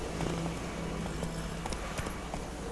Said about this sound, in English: They give you a horse, you might as well use it